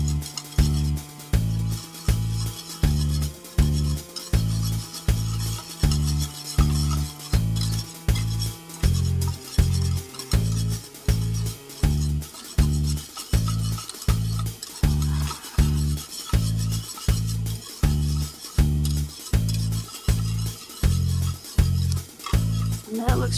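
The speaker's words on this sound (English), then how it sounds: "Just kind of break it up with the whisk." Bloomed gelatin is whisked in a bowl to break it up, giving a steady, close, rhythmic clinking of wire against the bowl that repeats evenly for a long stretch.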